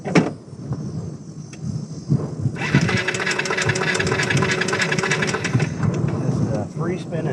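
A broken scooter engine spins freely with a fast, steady mechanical clicking and clacking, loud and close, running for several seconds between brief quieter stretches, with a voice faintly nearby.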